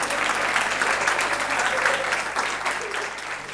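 Audience applause for the speakers at a talk series, a steady dense wash of clapping from a crowd filling the whole stretch at even loudness.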